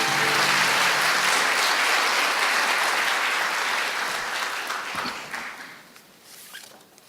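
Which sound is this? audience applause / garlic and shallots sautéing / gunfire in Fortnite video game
audience applause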